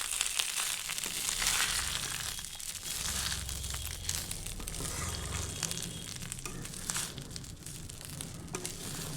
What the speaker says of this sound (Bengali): প্রায় 2 মিনিটের মতো চালটি এখানে ভেজে নিচ্ছি